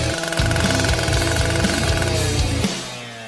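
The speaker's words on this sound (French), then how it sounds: "Je n'ai plus besoin de la scie." A rapid mechanical rattling saw cuts berries, running loud and close for a few seconds, then cuts off, leaving a fading hum.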